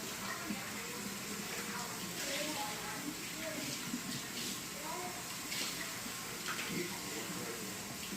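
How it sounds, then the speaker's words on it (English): Filtered water runs into a measuring cup in a home kitchen, a steady, faint hiss of flowing water with no breaks, while someone talks quietly in the background. "I'm going to add 2 cups of cool water from my filtered water section."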